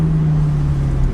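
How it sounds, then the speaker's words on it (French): Ferrari engine on the Montlhéry circuit banked speed ring during an Italian car meeting, a steady droning hum with a strong low tone held close and loud throughout, no voices. "j'ai fait l'accélération sur le circuit de Montlhéry"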